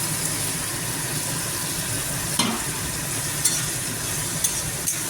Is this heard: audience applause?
no